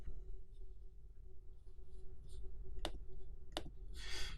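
A computer mouse gives two sharp, quiet clicks about a second apart while a tool is selected in website-building software, over a steady low hum.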